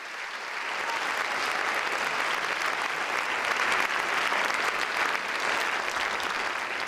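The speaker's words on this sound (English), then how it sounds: "Let's give them a round of applause for their support." An audience at a teacher-of-the-year awards ceremony applauds foundation board leaders with a full, steady burst of many hands clapping that rises quickly and holds evenly for several seconds.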